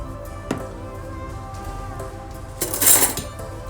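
A fork mixing salt into lahmacun dough in a bowl, with a sharp tap early, quiet scraping in between, and a brighter burst of clinking and scraping against the bowl toward the end.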